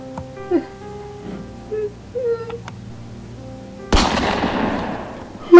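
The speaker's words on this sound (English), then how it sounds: "is that a gunshot?" A single sharp, loud bang rings out and decays with a long echo, following faint whimpering sounds in a quiet space.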